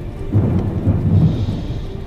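A thunderstorm with rolling thunder and rain, a loud low rumble swelling and fading over steady rain hiss, close and alone.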